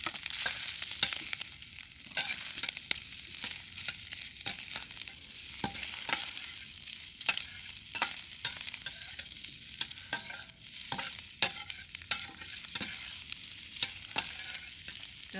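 Shrimp fry in oil left over from cooking eggs, for kimchi fried rice, with a continuous close crackling sizzle punctuated by repeated sharp clicks and scrapes of a utensil against the pan, no voices.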